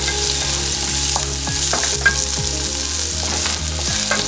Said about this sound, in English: we're going to go in with seasoning and bay leaf. Onions. Can sweat that a little.